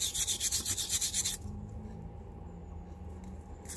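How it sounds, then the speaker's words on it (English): A wet brass brush scrubbing a piece of brass in quick, steady back-and-forth rasping strokes, fairly close, that stop after about a second and a half, leaving a low hum of background noise. "Give it a good scrub."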